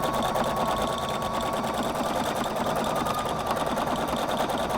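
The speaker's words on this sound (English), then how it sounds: "now I'm going to stitch to the end of this block, just like I did before" A Husqvarna Viking Designer Brilliance 80 sewing machine stitches steadily and loudly through a quilt block, its fast, even motor hum and needle clatter running continuously without a break.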